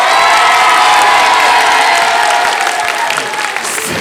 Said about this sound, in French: Et du bruit pour la fourmi.